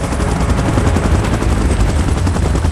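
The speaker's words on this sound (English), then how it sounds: "Chopper in position." Helicopter in PUBG Mobile with a Mechagodzilla mod, a loud, close, continuous rotor thumping mixed with rapid gunfire-like bursts, dense and unbroken throughout.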